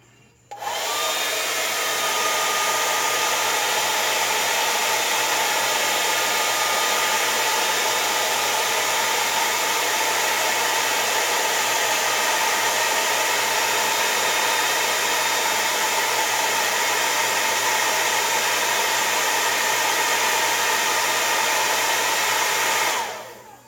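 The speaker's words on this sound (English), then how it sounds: "We're going to hit it again with the dryer." Hair dryer running steadily for over twenty seconds, blowing air to dry paint on a custom Funko POP vinyl figure; a loud, continuous whooshing hiss with a low motor hum that starts abruptly and cuts off at the end.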